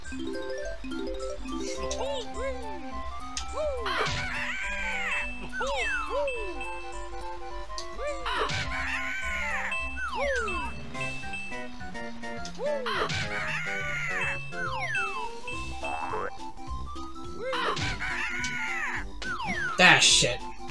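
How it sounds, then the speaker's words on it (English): Angry birds in the Banjo-Kazooie video game caw harshly, their calls recurring every few seconds over continuous, looping game music. "Yep, just some angry birds."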